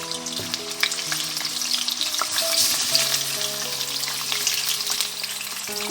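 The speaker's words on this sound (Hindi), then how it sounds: "सबसे पहले मैंने एक पैन में ऑयल डाल दिया है जिसमें हम चिकन पीसेस जो हैं वो फ्राई करेंगे अच्छी तरीके से।" Chicken pieces fry in hot oil in a pan for a Peshawar-style karahi, giving a close, steady crackling sizzle with scattered pops and faint utensil clinks, and no voices.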